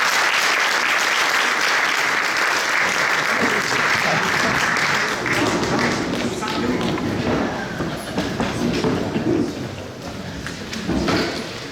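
A roomful of people at a swearing-in ceremony for municipal executive members applauds loudly and steadily, the dense clapping gradually thinning toward the end.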